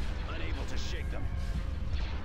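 Ion cannon firing during a space battle in Star Wars: Empire at War, a steady rumbling barrage with zapping tones layered over constant low drone, moderately loud.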